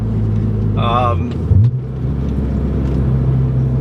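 An E46 BMW M3 engine with a new intake rumbles loudly with a raspy growl, and a short vocal sound rises briefly over the steady roar.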